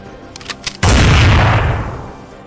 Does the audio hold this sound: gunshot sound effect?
yes